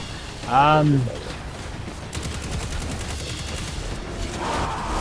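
Rapid automatic gunfire rattles continuously while players shoot orcs in Destiny 2. The fire sounds as a dense buzzing stream with a voice speaking briefly near the start.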